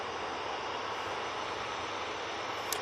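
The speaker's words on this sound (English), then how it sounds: "On final now, we do have the TUI coming in from Cancun. It's 787-9 Dreamliner." A TUI Boeing 787-9 Dreamliner inbound from Cancun on final approach to Manchester Airport gives a steady, moderate broadband jet roar that holds level throughout, distant rather than close, with a faint brief tick near the end.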